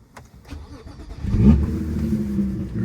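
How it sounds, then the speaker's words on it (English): A BMW car engine cranks and catches, settling into a steady low idle that swells after the first second and holds close and clear. "The car starts right up."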